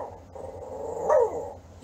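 A pet dog at home, a female, gives a drawn-out whining bark that swells in the middle and then fades, heard alone at moderate distance.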